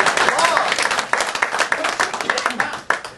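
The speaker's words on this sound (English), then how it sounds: "Give him a round of applause." An audience at a mind-reading stage show claps briefly, an uneven, choppy round of applause with distinct individual claps, mixed with talk from people in the room.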